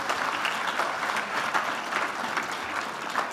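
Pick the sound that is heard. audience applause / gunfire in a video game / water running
audience applause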